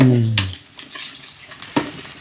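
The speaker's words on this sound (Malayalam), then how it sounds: "അവിടെ ഇഞ്ചി മൂക്കാറായിട്ടാ. ഇഞ്ചിയൊക്കെ മൂക്കാറായി." Ginger frying in a pan: a soft continuous sizzle with scraping stir strokes and a couple of sharper utensil knocks, and a brief voice-like hum at the very start.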